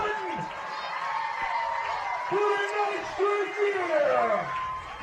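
An excited crowd roars in a football stadium before a ball game, a steady far-off wash of cheering and whoops with swelling peaks, mixed with voices and announcer-style talk.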